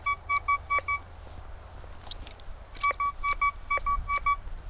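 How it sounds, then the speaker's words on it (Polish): Golden Mask metal detector with a Spider 9-inch coil passing over a silver Roman coin found under an old brick, giving two bursts of rapid, loud, evenly spaced electronic beeps separated by a quieter gap. "Sygnał jest rozmyty podobnie jak przy kamieniu magnetycznym."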